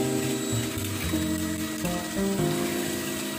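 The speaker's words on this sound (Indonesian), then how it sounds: "Kita akan mixer telurnya dan gulanya." An electric hand mixer whirs steadily while beating eggs and sugar for banana brownies, a continuous close motor hum with shifting pitch as the beaters move through the bowl.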